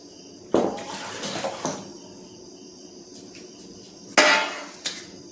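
Cooking water from boiled bharangi greens is poured out and tipped away, two bursts of splashing and clattering against a pan, near and loud over quiet insect-like background hum, no talk.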